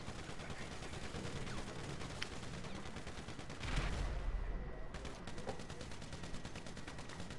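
Rapid gunfire from a video game shooter, dense bursts of shots running steadily throughout with a heavier thump midway, loud and continuous without talk.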